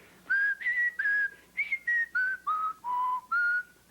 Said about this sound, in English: he'd also whistle backwards